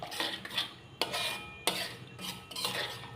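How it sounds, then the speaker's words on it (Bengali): Spice paste of soaked coriander and cumin stirred and sautéed in oil in a pan: a metal spoon repeatedly scrapes and knocks against the pan in irregular strokes over a soft sizzle, close and fairly loud, with no voices. "এবার এটাকে ভালো করে কষাতে হবে, যতক্ষণ না এটা তেল ছাড়ছে বা কাঁচা গন্ধটা যাচ্ছে"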